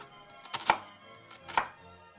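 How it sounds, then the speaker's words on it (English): A knife chops onions, turnips and carrots on a board, two sharp, close thuds about a second apart with a quieter tap before each, in a quiet room. "It just has to be chopped in some way or another."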